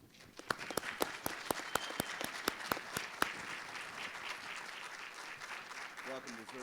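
Audience applause welcoming a speaker to the stage at a lecture on the 13th Amendment, with sharp, loud claps in the first half that thin into a softer, fading patter before a voice briefly starts up at the end.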